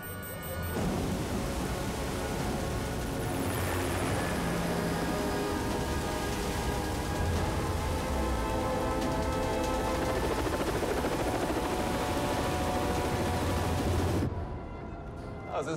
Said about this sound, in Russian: Они направляются прямо в шторм.